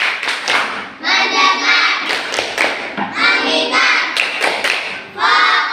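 A primary classroom does a rhythmic focus clap: children chant together with sharp, short bursts of group clapping between the spoken phrases, close and loud.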